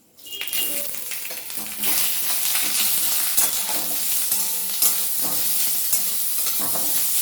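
Chopped banana stem drops into a hot pan for pulao, and the sizzle swells, then a spatula scrapes and clatters in repeated strokes over a steady, loud frying hiss.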